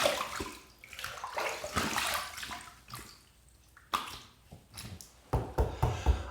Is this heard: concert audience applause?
no